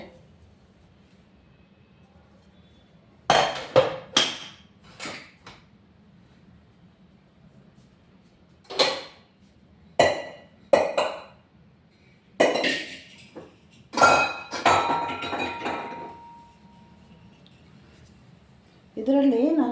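Metal pots and vessels are put away in a home kitchen, making intermittent clanks and clinks in short bursts with quiet gaps between.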